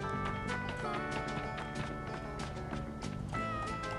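Hooves of a horse galloping in a video game, a steady rapid clip-clop rhythm running throughout over game music and ambience.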